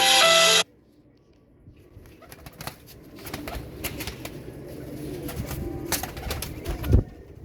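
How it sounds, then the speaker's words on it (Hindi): Teddy pigeons in a loft or cage coo and shuffle softly, with occasional wing flutters and clicks over a steady low background; a brief loud burst of other noise at the start. "ये टेडी कबूतर भी दिए दोस्तों, टेडी कबूतर भी दिए हैं"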